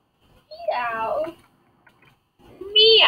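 A person mimics a cat's meow with their voice, two drawn-out, whiny calls separated by a short pause, close and fairly loud, during a Murder Mystery 2 game session.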